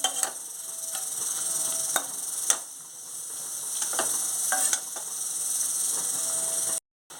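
Chopped onions with salt frying in a pan for a Telugu-style brinjal curry, a steady close sizzle with occasional stirring clicks and scrapes, and a brief silent gap near the end.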